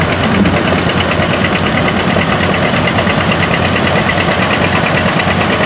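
A 1951 John Deere Model A tractor engine runs steadily at a plow day, a continuous loud mechanical rumble with an even knocking beat and no pauses.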